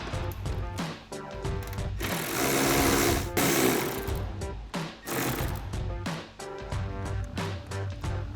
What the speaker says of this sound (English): we're just gonna take a 10mm socket to remove that bolt